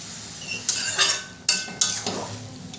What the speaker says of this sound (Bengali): একটু খুন্তি দিয়ে ঘেটে দেবো।